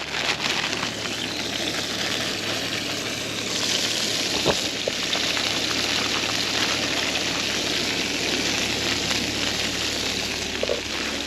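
Bean shoots fry in a hot pan at a wild camping cookout, giving a loud, continuous close sizzle with a brief clatter near the middle and no talk.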